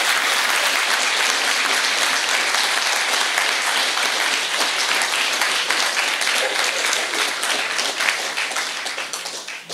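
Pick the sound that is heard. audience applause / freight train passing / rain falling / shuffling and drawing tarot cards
audience applause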